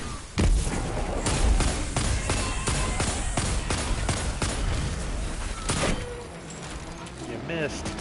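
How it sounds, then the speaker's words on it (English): Repeated heavy booms of cannon fire in a PS4 video game, a rapid series of loud thuds and blasts over about six seconds, followed by quieter clattering effects. "enough with the freaking cannon there"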